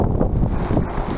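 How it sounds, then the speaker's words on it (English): Strong typhoon wind gusts buffet the microphone in Kobe, Japan, during Typhoon Hagibis, a steady loud low roar of wind noise with a sharp gust burst near the end and no talking. "Every now and again there is a big gust of wind that nearly takes me off my feet"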